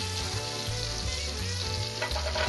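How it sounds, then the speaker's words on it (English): Pearl onions browning in sizzling olive oil and butter in a pan for boeuf bourguignon, a steady close frying hiss with soft rhythmic stirring scrapes, no talk. "You put your olive oil and your butter in the pan. Make sure it's all sizzling, and then you take your pearl onions"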